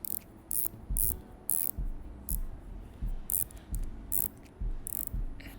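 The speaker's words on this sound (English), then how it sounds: "I really love that action on the bezel." A Rolex Submariner 114060 bezel turned by hand gives a string of crisp ratcheting clicks in short bursts over about six seconds, close and quiet, with no talking.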